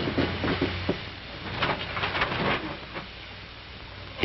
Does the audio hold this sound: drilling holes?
no